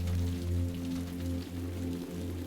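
Rain pattering on a black silk umbrella, an unbroken close hiss of drops layered over a low sustained hum, with no speech.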